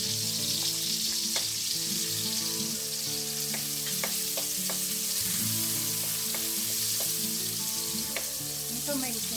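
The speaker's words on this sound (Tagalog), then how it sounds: "Igigisa natin yung bawang." Garlic and onion sauté in a pan for sweet Filipino-style spaghetti, giving a steady, close frying hiss with light stirring taps over a faint background hum.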